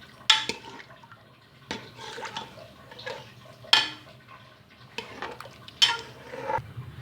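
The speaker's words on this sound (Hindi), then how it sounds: "अब मैं इसके अंदर चम्मच फेर दूँगी।" A spoon stirs meat and garlic-ginger paste in a pressure cooker, giving sharp metallic scrapes and clanks roughly every second or two, with wet shuffling between them, close and fairly loud.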